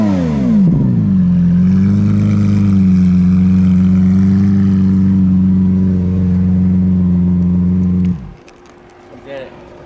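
A Lamborghini Aventador fitted with a factory Lamborghini race exhaust revs up loud and close, its deep engine note swelling and then holding a steady drone for several seconds before cutting off abruptly into near quiet.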